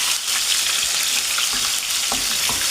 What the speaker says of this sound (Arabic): راح يعني نحلحلو هكا في قليل من الزيت